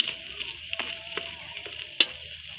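Garlic and ginger fry in a pan, giving a steady close sizzle broken by a few stirring scrapes and one sharp clack, with no voices.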